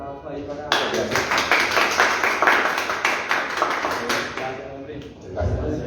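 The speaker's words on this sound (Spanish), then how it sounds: "un aplauso ahí para..." Audience applause at a book presentation: a sustained burst of clapping from a small crowd, loud and dense for several seconds before tapering off, with a brief voice at the end.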